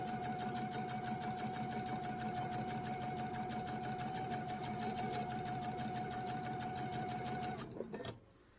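A sewing machine stitches an eyeglasses case in a steady, fast whirring run with a constant tone for about seven and a half seconds, then stops abruptly, leaving a brief quiet tail.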